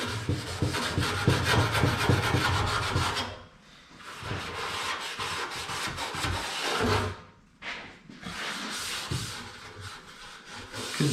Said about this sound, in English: I'm just going over it with some Scotch-Brite to make sure all the edges are ready.